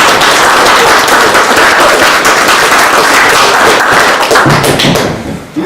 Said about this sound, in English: Let's do that round of applause one more time.